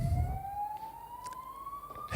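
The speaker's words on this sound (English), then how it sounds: "We'll just pause as a police siren goes past." A police siren wails past outside, one long rising tone climbing steadily in pitch, fairly faint and distant with a few soft knocks around it.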